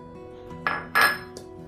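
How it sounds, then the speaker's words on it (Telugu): A few sharp clinks of a utensil against a bowl while milk is mixed into flour for cake batter, with two louder knocks close by and a faint tap near the end, no talking. "మిల్క్ వేసుకొని లంప్స్ లేకుండా ప్రాపర్గా దీన్ని మిక్స్ చేసుకోండి"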